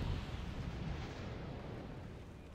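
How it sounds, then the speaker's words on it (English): A missile barrage in the video game Wargame AirLand Battle makes a dense, continuous roar of launches and blasts, loud and steady, slowly thinning toward the end with no voices. "that is a lot of missiles going out"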